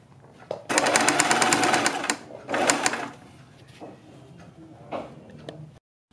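A sewing machine stitches a neck design strip in two rapid bursts, a long run and then a shorter one, with soft clicks and fabric handling between and after.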